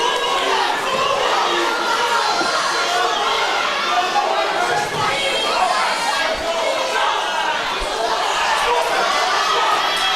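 Crowd at a boxing club season opener roars and shouts continuously, with children's voices and cheering in a loud, dense wash, and a voice talking over it.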